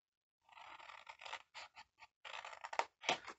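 Scissors snip slits in paper while a painted Santa wine bottle craft is made, a quiet close series of short crisp cuts in uneven bursts.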